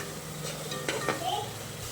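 Pav bhaji masala being stirred into a pan of vegetable mixture, a soft steady sizzle with a few quick spoon scrapes in the middle, quiet and close.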